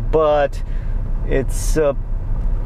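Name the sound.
rough diesel engine of a Fiat Croma second generation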